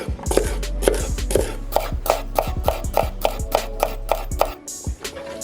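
Celery chopped into rough bite-sized pieces on a cutting board, a close, loud series of sharp knife chops in an uneven but steady rhythm, about a dozen strikes before stopping.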